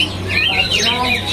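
A young male kacer songbird chirps and twitters in quick, bright warbling runs at a bird market kiosk, close and steady over a low background hum.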